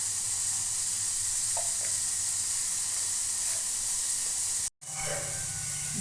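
Water spiced with turmeric, nutmeg and asafoetida bubbling hard in a pot on a gas stove, a steady loud hiss and roil throughout, briefly cut off by a moment of silence near the end before resuming.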